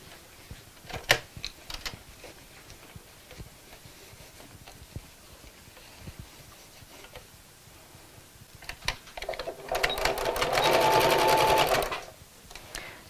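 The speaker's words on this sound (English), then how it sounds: "Then I need to do exactly the same but sew around the bottom." Sewing machine stitching around the bottom of a fabric Christmas gift sack: scattered clicks and handling noises first, then a steady close whirring run of stitches lasting a few seconds before stopping.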